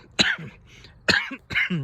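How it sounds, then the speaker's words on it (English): Three sharp, harsh coughs from one person with a cold nearby, evenly spaced with short pauses between them. "I'm coughing because I have a cold."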